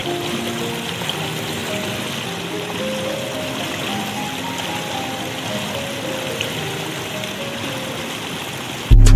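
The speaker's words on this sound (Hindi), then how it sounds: "चश्मे का पानी जो कि रास्ते में हमारे पीने के काम आएगा" Mountain spring water flows steadily along a Himalayan trail near BhatiMali Peak, a close, continuous babbling stream with no voices, ending in a brief loud bump.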